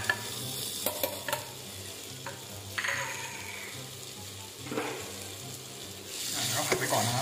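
Pounded chili and garlic sizzle in a hot pan, a soft frying hiss with occasional spatula knocks and scrapes, close and without talking.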